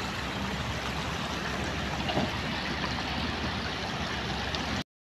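River water rushing with a strong current, a continuous dense roar and wash of flowing water heard close by, cutting off abruptly near the end.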